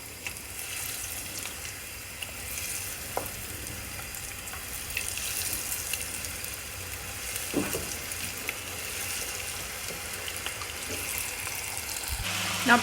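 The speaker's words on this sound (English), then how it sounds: "you can't walk away from frying food" Chicken deep frying in a pan of oil gives a steady, soft sizzle and crackle, with a few faint clinks and a louder knock near the end.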